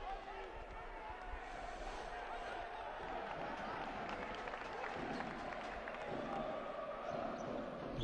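A basketball arena crowd at a Kumanovo versus Levski game roars loudly and steadily throughout, a dense wash of cheering and noise with no pauses.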